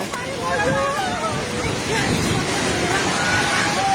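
Roaring rush of a flooded river in Nepal, loud and constant, with people's voices calling out over the torrent.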